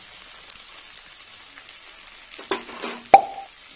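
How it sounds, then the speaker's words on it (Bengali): Turmeric powder fries in a spice masala for a bhetki fish-bone kalia with potato and eggplant, giving a steady, quiet sizzle with a few sharper plops and spits toward the end. "হলুদটা একটু ভাজা।"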